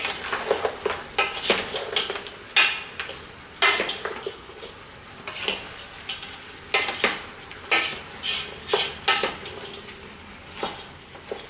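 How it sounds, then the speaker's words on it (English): Beef being stir-fried with spices and sauces in a pot for a Cantonese beef and potato stew, with repeated loud clanks and scrapes of a utensil against the pot over a soft sizzle, no voices. "let's just stir fry the ingredients into the meat"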